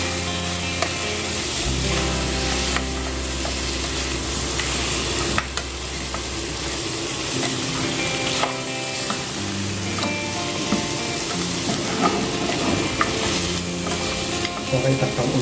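Adobo pork ribs sizzle steadily in a pan while a utensil stirs them with scattered scrapes and knocks, a continuous close frying hiss through the whole stretch, with a low steady hum underneath.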